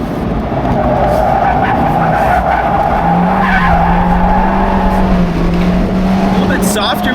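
Fiat 124 Spider Abarth, a small light sports car, driven flat out on a race track, its engine droning loudly throughout with tires squealing and scrubbing through corners, heard from inside the car while a voice talks over it.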